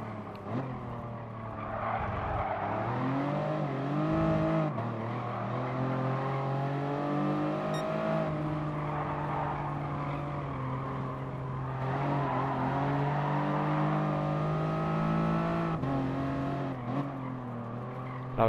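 Safety car driven in Gran Turismo Sport, its engine droning steadily with rising and falling revs and a little tyre noise, continuous and fairly loud throughout with no talk.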